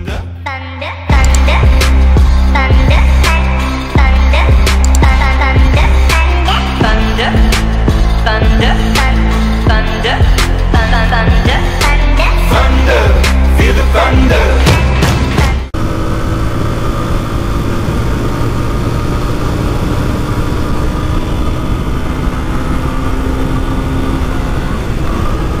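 A 2012 Yamaha Fazer 250 motorcycle engine with a fault that cuts out near 8000 rpm, revved hard and loud in jerky surges for about fifteen seconds, then dropping abruptly to a steadier, lower running sound.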